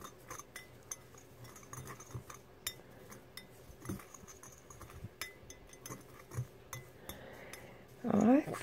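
A tool stirs a nail art mix of glow powder and glow rhombus glitter in a small container, making faint, irregular light clinks and scrapes throughout, with a brief louder rustle near the end.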